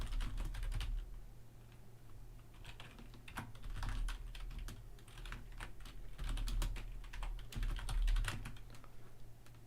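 Computer keyboard typing during a football talk stream, a steady run of quick clicky keystrokes with short pauses, fairly close and alone over a low constant hum, with no talking.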